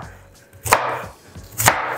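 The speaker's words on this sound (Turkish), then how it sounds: "Karnabaharımızı da doğradık ve onu da süzgece koyuyoruz." Cauliflower is chopped with a knife on a kitchen counter, two distinct sharp cuts about a second apart, close and clear with no talking.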